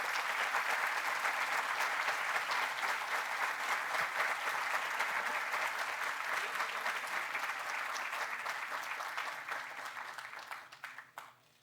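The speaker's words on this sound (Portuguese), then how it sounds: "Peço às senhoras e senhores, mais uma vez, uma salva de palmas à nossa homenageada" Sustained applause from the audience honoring an award recipient at the FIEC Summit 2022 opening ceremony. Dense, even clapping continues for about ten seconds before tapering off and stopping.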